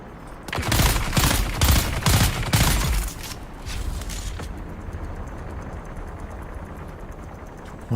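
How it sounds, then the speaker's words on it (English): Dense bursts of automatic gunfire and grenade blasts in the video game Dune: Awakening, loud and rapid for the first three seconds, then thinning into scattered, more distant shots under a dusty ambient bed. "What is all that gunfire? It just sounds like a bunch of these dudes standing in a circle shooting."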